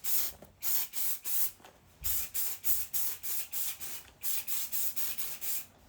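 Dry shampoo sprayed onto hair in short, rhythmic hissing bursts, about twenty quick puffs in a row with brief gaps, close and fairly soft, with no talking.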